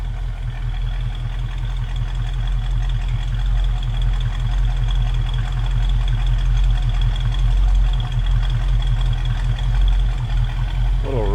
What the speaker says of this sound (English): Little rumble coming out of that fuel exhaust